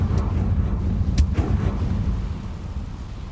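In Hogwarts Legacy, a Confringo blast spell bursts with a deep rumbling boom, followed by a couple of sharp crackling hits over a low, sustained roar that slowly fades.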